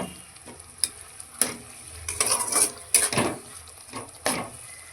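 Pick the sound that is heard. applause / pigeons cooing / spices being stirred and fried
spices being stirred and fried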